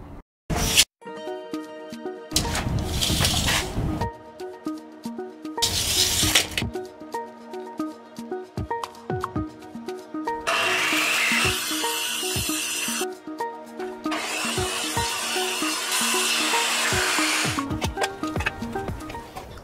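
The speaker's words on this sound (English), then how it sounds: "I'll sand the other ends as well and just see if there's much difference at the other end" Rosewood is sanded by hand in a workshop while a steel sailing yacht is being built. Several bursts of dry, close, rhythmic abrasive scratching are separated by short pauses and scattered knocks.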